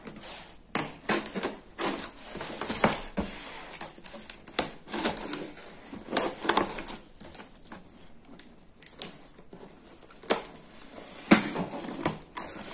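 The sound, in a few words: unboxing a mini air fryer from Aldi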